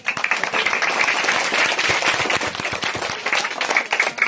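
Audience at a madrasa poetry recital claps steadily throughout, a dense, fairly close round of applause with no pause.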